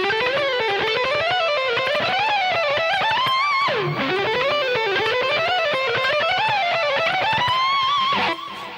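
A fast electric guitar lick runs up and down the Dorian scale, picked on the way up and pulled off on the way down, in steady rippling waves that stop abruptly near the end.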